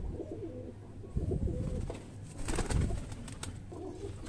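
High-flyer pigeon cooing close by in a series of soft, throaty coos that swell and fade over a few seconds, with no talking.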